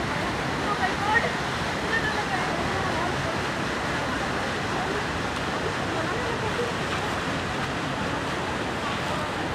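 Water rushes steadily over Indrapuri dam near Dehri in Bihar, a dense, continuous roar that stays loud and even throughout with no pauses.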